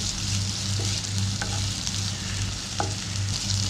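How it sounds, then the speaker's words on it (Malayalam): Sliced onions with salt sauté in hot oil for a brinjal curry, a steady close sizzle with occasional stirring clinks and scrapes throughout. "ഓയിൽ ഒന്ന് ചൂടായി വരുമ്പോൾ അതിലേക്ക് നമ്മൾ എടുത്തു വെച്ചിരിക്കുന്ന സവോള ആഡ് ചെയ്ത് കൊടുക്കുക."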